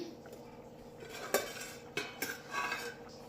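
Metal spoon scraping and clinking against a pot while cashew and drumstick gravy is stirred, several sharp clanks over a low simmering background, close and moderately loud.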